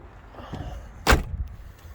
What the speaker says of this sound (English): Let's shut the boot.